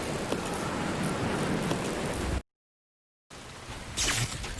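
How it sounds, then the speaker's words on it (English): Steady rain in the video game Resident Evil 0, a dense hiss of falling rain that cuts out briefly and then resumes, louder near the end, with no talking. "like the Metal Gear Solid 2 rain"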